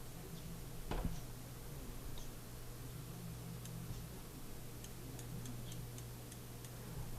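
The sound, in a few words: Steiner GS3 scope turret adjustment clicks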